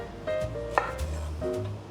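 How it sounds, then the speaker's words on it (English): A knife chops the ends off vegetables on a cutting board, a few close, crisp thuds spaced unevenly over a short stretch with no talk. "now I'm just gonna chop the ends off"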